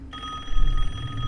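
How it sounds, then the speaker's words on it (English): An in-game telephone rings in Resident Evil Village, a steady electronic bell tone sustained and fairly loud over low rumbling game ambience. "Pick up the fucking phone already."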